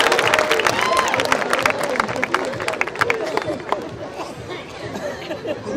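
An audience at a Chhattisgarhi comedy show breaks into loud, scattered clapping mixed with crowd chatter and babble, fading gradually toward the end.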